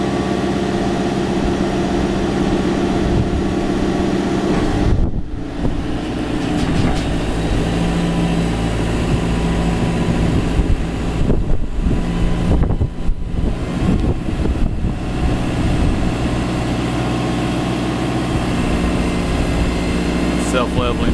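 Cat telehandler, an 8,000-pound machine with a 42-foot reach, runs with a steady engine drone throughout, under someone talking, with brief dips and wind buffeting on the microphone.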